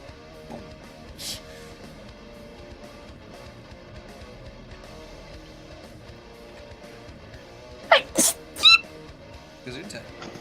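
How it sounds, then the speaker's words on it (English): A person lets out a few quick, sharp sneezes close to the microphone, short bursts of breathy noise in a quiet room, with people chatting around a tabletop game before and after. "Don't judge how I sneeze."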